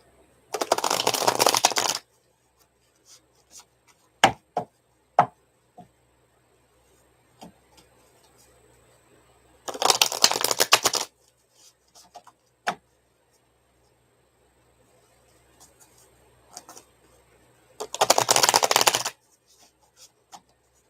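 Tarot cards are shuffled in three separate bursts of quick riffling, each lasting a second or two, with soft taps and card handling in the quiet gaps between.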